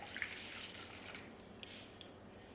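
Bouillon broth mixed with warm water being poured into a bowl in a home kitchen, a faint, soft liquid trickle with a few small drips and splashes.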